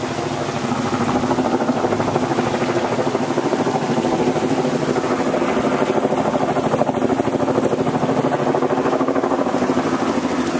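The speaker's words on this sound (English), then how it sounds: "we do have a helicopter hovering here" A helicopter hovers overhead above a residential waterfront property on Merritt Island, Florida, giving a steady, loud rotor thrum with rapid pulsing that holds unbroken throughout, with no talking.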